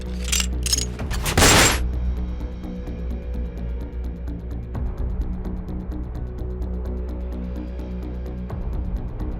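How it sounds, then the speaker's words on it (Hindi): Gunfire in a city street in Gaya, Bihar, on Diwali day: a rapid burst of several sharp, loud shots in the first two seconds, then a steady droning background with no further shots. "बीच सड़क दनादन फायरिंग"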